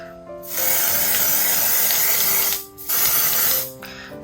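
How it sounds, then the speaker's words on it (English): Two long bursts of fine, hissing spray of Dior airbrush spray foundation, nearly continuous with a brief gap between them, close and steady, with no talking. "I'm gonna use the Dior airbrush spray foundation."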